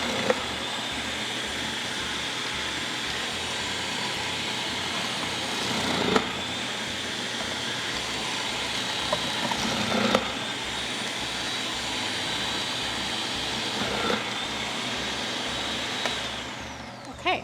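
A food processor shreds cabbage with a steady, loud whirring drone that runs unbroken for over fifteen seconds, with a few faint knocks along the way and no talk over it.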